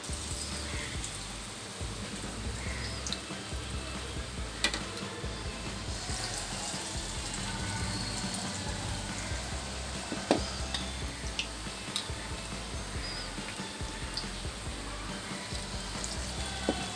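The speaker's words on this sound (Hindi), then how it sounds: "इस तरह से मीडियम और हाई आंच पे ही इसको फ्राई करेंगे।" Bread pakoda pieces frying in hot oil over medium-high heat, giving a steady, dense sizzle that runs unbroken throughout with a few small ticks and pops on top.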